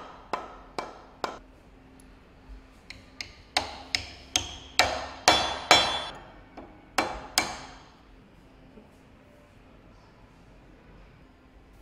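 Spring pins are hammered into an LPA grip assembly: about seventeen sharp metallic hammer strikes in uneven bursts, close and clear, then quiet.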